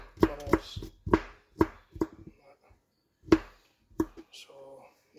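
Garlic is sliced on a board for a milkfish marinade: a handful of crisp, close knife taps in an uneven rhythm, with a voice talking between them.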